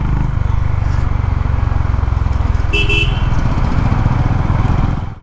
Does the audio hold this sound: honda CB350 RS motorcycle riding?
yes